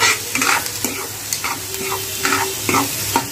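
Cumin seeds with salt are stirred and fried in a pan, giving a steady close sizzle broken by repeated scraping strokes of the spoon, with no talking.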